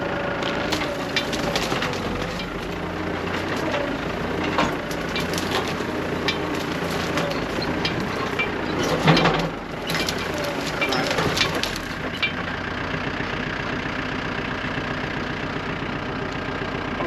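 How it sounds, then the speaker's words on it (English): A tractor in low gear rumbles steadily while dragging a chain through dry brush to cut fire breaks, with continuous crackling and snapping of vegetation under a droning engine. "Just stopped to put the tractor in 4-wheel drive and in low gear, because this is dangerous."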